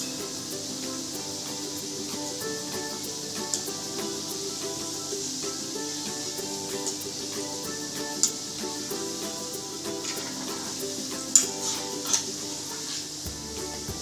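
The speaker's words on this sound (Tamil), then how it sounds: "இதை நல்லா பொரிச்சு எடுத்துருங்க" Fried wheat modak deep-frying in hot oil over medium heat gives a soft, continuous hiss and fine bubbling sizzle with a few faint clicks of utensils, steady and fairly quiet, no talk.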